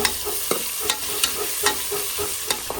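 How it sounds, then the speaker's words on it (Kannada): Crushed garlic, curry leaves and onions frying in coconut oil in a pressure cooker for chicken sukka, a steady close sizzle broken by repeated sharp scrapes and taps of a stirring spoon against the pot. "ಇದಕ್ಕೆ ಸ್ವಲ್ಪ ಜಜ್ಜಿದ ಬೆಳ್ಳುಳ್ಳಿ, ಹಾಗೆ 2 ಎಸಳು ಕರಿಬೇವು, ಹಾಗೆ 2 ಈರುಳ್ಳಿನ ಹಾಕಿ ಚೆನ್ನಾಗಿ ಫ್ರೈ ಮಾಡಿಕೊಳ್ಳಿ"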